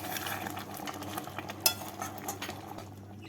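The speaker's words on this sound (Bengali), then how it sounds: "আর দেবো এক স্পুন বাটার কসুরি মেথি আর বাটারটাকে দিয়ে নেড়ে নিচ্ছি" Butter and kasuri methi being stirred into a potato curry, a spoon scraping and clinking against the pot with a light sizzle underneath and one sharp clink midway, close up and without speech.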